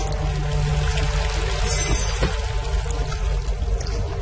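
A bucket of water is poured in the horror video game Amnesia, a steady gushing splash that runs for several seconds, fairly loud and close, with no talking.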